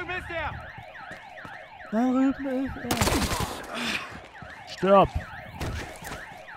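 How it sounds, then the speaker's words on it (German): An alarm siren in the video game Battlefield: Hardline wails in repeated rising and falling sweeps throughout, mixed with bursts of gunfire and clatter, while someone talks loudly over it. "Wieder Alarm."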